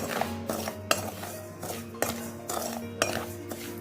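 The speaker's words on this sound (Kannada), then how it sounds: "ಆ ರೀತಿ ರವೆನ ನೀಟಾಗಿ ಹುರ್ಕೋಬೇಕಾಗುತ್ತೆ" Semolina roasting in a pan for sapota kesari bath, a spoon or spatula scraping and clinking against the metal in a steady rhythm of about two strokes per second, close and clear.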